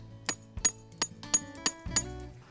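Tent stakes for a Sabbatical Gilia tent are driven into the ground with a hammer: six sharp, evenly spaced strikes with a slight metallic ring, close by and with no talk.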